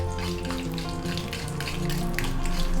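Banana flower frying in oil in a pan while cooking vazhaipoo paruppu usili, a steady close sizzle and crackle throughout with no talking.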